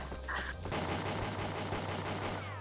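Rapid turret gunfire crackles in the video game Winback: Covert Operations, a fast rattling burst of repeated shots that keeps going throughout at moderate loudness, with no talking.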